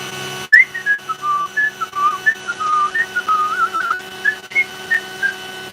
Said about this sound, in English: we're just going to whistle nonchalantly and pretend that's what we were trying to do all along